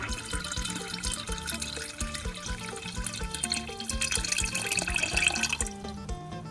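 Water is poured off while making Thai sato rice wine: a steady stream of liquid splashing and trickling, with music playing underneath throughout.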